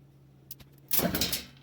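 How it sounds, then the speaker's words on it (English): Split case of a 20-inch box fan motor being pulled apart: a couple of faint clicks, then a short scraping, rattling burst of metal parts separating at close range. "Now we should be able to just pull this motor apart."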